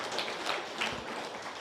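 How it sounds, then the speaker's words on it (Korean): Audience applause at a network marketing seminar in a hall, a dense, steady wash of many hands clapping at moderate level throughout, with no voices on top. "이제 떨리지 말라고 박수 한번 쳐주세요"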